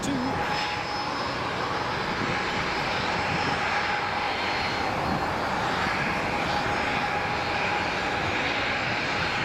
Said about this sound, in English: Here goes the next Jet2.